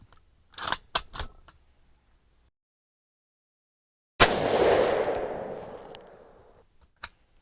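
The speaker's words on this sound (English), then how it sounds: "All right, first 5 shots looking good." A military surplus rifle fires with handloaded ammunition, a few sharp clicks and clatter preceding a single loud, booming shot that rolls away slowly, followed by one brief click near the end.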